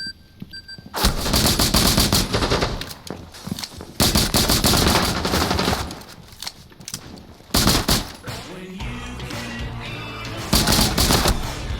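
Rapid automatic gunfire from a Rainbow Six Siege X match, several loud close bursts of fast shots separated by short pauses, with some lighter shuffling between volleys.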